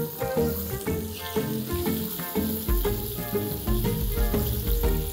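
Val papdi bean pieces hit hot oil tempering in a pan, giving a loud, continuous sizzle and crackle with a few clinks and stirring scrapes, no voices.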